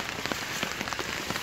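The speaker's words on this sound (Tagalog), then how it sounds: "Kasi malakas kasing ulan." Steady rain pattering densely on a goat farm, a constant hiss with scattered individual drop taps, fairly soft and continuous.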